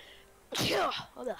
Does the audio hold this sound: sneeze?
yes